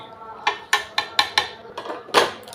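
A metal spoon clinks repeatedly against a cooking pot while khichuri is served out, about seven sharp, close strikes in a quick, slightly uneven rhythm.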